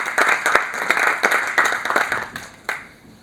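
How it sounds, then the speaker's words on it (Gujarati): Audience applause at a textile-industry event, steady clapping from a crowd that swells and holds for about three seconds before tapering off. "આપ સૌના તાળીઓના ગડગડાટ વચ્ચે વિશાલભાઈને આવકારું છું"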